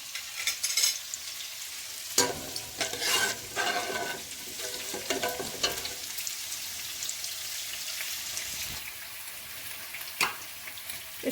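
Whole garam masala spices sizzle steadily in hot oil in a pot for savory pulao, with a continuous crackling fry broken by a few sharp stirring knocks and clinks nearby, and no talking.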